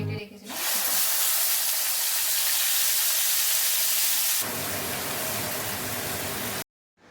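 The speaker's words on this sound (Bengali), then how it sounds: "এবার এর মধ্যে আমি দিয়ে দেবো যে পেঁয়াজটা বেটে রেখেছিলাম।" Ground onion paste hits hot oil already holding dried chillies, cardamom, cinnamon and asafoetida, setting off a sudden loud hiss that holds steady, softens partway through, then cuts off abruptly.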